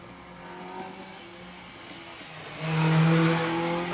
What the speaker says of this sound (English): Caterham powered by the Rover K series engine.